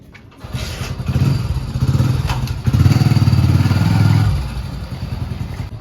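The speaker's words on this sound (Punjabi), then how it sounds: "ਮੈਂ ਆ ਗਿਆ ਮੋਟਰਸਾਈਕਲ ਲੈ ਕੇ" A motorcycle engine rumbles close by, its idle thumping rising and settling as the bike pulls up, with some clattering.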